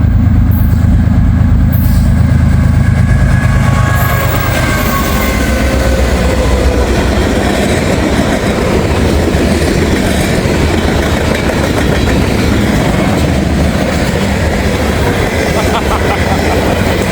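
An NS or CSX freight train, M559 with coal cars, rolls past close by, steady loud rumble and clickety-clack of wagons on rails continuing throughout.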